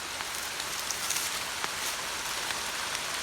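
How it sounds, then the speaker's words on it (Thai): Rain falling outdoors in rural Thailand, a close, steady broadband patter of drops on surfaces with scattered sharper taps, continuous and fairly quiet with no voices. "ฝนตกครับ"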